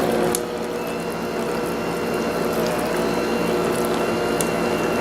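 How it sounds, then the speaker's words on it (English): An electric hand mixer whirs steadily as it beats cream cheese and honey in a bowl, a continuous, fairly loud motor drone with faint clicking beaters and no speech. "I'm going to mix that up with my hand mixer again."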